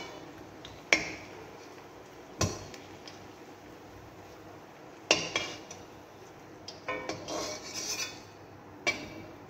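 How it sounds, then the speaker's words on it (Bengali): Clinks and scrapes of a utensil against a pan as fried water lily fritters are lifted out with the gas turned off, a few sharp isolated knocks spread over quiet background. "বন্ধ করে দিয়ে এবার ভাজাটা তুলে নিচ্ছি।"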